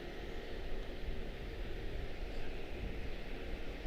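A Boeing 777 airliner approaches Charlotte Douglas airport, heard as a steady broadband jet roar with a low rumble, distant and unbroken, with no voices.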